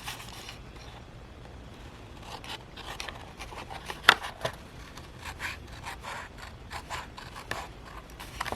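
Scissors cutting paper along a ruled line for a junk journal page, a soft sequence of rasping snips and rubbing strokes at close range, with one sharper click midway and no talking.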